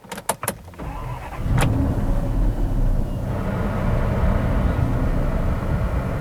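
A twincharged Dodge Magnum with a Hellcat-style engine cranks over in a few quick clicks and catches. It fires into a loud, deep idle that settles into a steady rumble nearby.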